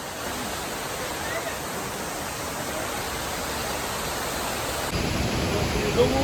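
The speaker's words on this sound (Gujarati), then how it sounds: "આવા વોટરફોલ તમે જો કેટલો ઊંચાઈ ઉપરથી છે" A high mountain waterfall on the Kedarnath trek roars as a steady, dense broadband rush of falling water. The sound grows slightly louder and fuller near the end, with no voices heard.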